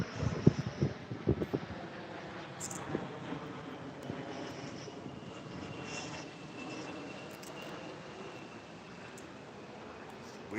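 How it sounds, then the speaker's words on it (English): An unseen airplane passes overhead through fog at a fishing spot, a faint, steady engine drone spread over several seconds beneath gusty wind noise, with a few knocks near the start. "Funny, I can hear the plane, but I can't see it."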